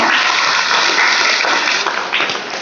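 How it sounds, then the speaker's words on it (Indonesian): Applause from a school talk-show audience greeting the boys from the vocational schools, a dense, steady wash of clapping that fills the whole stretch and eases off slightly near the end. "Tepuk tangan dulu buat yang cowok"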